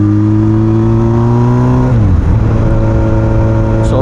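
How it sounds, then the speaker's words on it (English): A 2002 Yamaha YZF-R1 motorcycle with a flat-plane engine revs close by in a steady, buzzing drone that drops in pitch about halfway through, then settles into a lower hum. "So this is a flat plane engine. That's why it sounds almost like a bumblebee, or maybe a cow."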